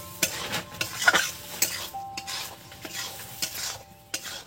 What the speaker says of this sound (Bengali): এই যে টমেটোগুলো আমি দিয়ে দিচ্ছি, দেখুন একটু নেড়ে চেড়ে নেবো